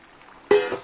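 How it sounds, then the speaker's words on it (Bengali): Fried potatoes drop into a pan of tomato spice masala with a little hot water, giving one sudden wet thud and splatter that fades into a short sizzle after a quiet start. "এখন আমি দেবো ভাজা আলুগুলো"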